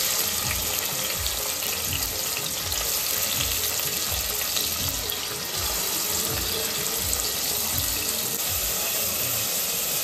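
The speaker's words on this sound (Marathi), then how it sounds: "आपलं गरम झालेलं आहे, तर आपण त्यात आता कांदा टाकणार आहोत।" Onion sizzles in two to two and a half spoons of hot oil for a Pen-style kala mutton dish, a dense, constant, loud frying hiss with faint crackles that carries through the whole stretch, with no talking.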